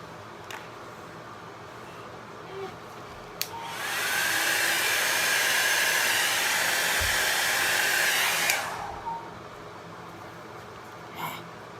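A hair dryer blows on an alcohol ink painting in a steady, loud rush of air for about five seconds, switching on and off with quiet room sound on either side.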